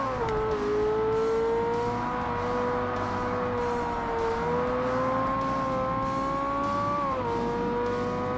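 A Ferrari 360 Modena race car in the video game Forza Motorsport drives hard, its engine a steady high-pitched whine rising slowly in revs, dipping briefly at a shift, then climbing again, loud and close with no talk.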